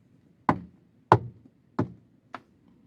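Knuckles rap four times on the plastic interior door trim of a JAC E-J7 electric car, producing dull, hollow knocks evenly spaced about half a second apart, the last one lighter, in a quiet cabin.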